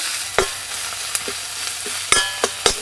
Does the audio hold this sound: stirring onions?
yes